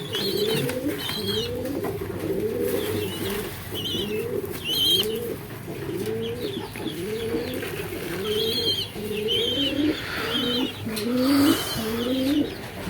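Young pigeons coo and beg for food in a backyard pigeon loft while hens prepare to lay eggs, a steady run of repeated low warbling coos close by with occasional faint chirps above.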